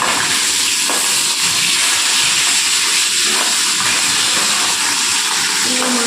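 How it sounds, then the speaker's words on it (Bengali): Fish frying in a pan in a home kitchen hisses loudly and constantly for about six seconds, a dense, even sizzle with faint uneven bubbling and crackle. "আর এদিকে হচ্ছে মাছ ভাজা।"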